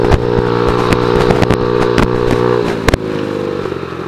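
A 50cc motorcycle engine is revved hard up close, giving a loud, buzzy, high-pitched drone with sharp popping clatters and a drop in pitch near the end.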